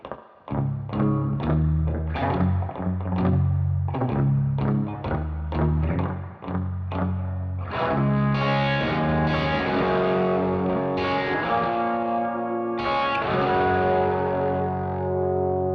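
Distorted electric guitar chords through amps ring out with a short stereo slapback delay spreading them wide, rhythmic strums giving way to sustained melodic notes, in an indie folk style.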